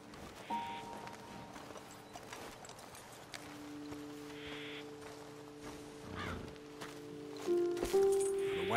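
Horses' hooves clip-clop at a walk in Red Dead Redemption 2, a soft, steady patter under wind and rustling, with a brief tonal chime near the end.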